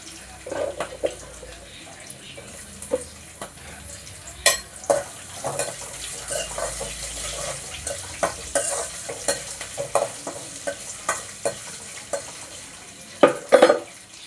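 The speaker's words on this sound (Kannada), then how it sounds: "ಮೆಣಸಿನಕಾಯಿ ಹಾಕ್ತಾ ಇದ್ದೀನಿ ಚಟ ಪಟ" Dried red chillies crackle and pop in hot oil, a continuous close sizzle dotted with frequent sharp spits and stirring clatters, louder bursts toward the end.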